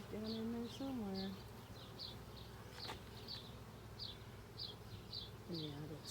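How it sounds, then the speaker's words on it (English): Bees buzz around an open hive during an inspection in week eleven. Short buzzing passes come and go near and far, with faint background noise and brief rustling between them. "Sorry, bees."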